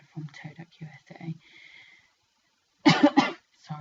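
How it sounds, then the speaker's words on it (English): A man coughs a few times, loud and close, after a stretch of soft talking in a quiet room during acrylic nail infill work. "Sorry, I'm off with a man cough."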